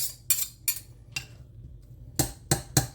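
A utensil stirring melted butter in a pan for pasta carbonara, six sharp metallic clinks and scrapes in an uneven rhythm, close and fairly quiet, with no talking.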